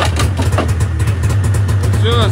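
Vehicle engine idling after standing unused for two years, a steady low rumble holding close and fairly loud throughout, with a brief high whine near the end.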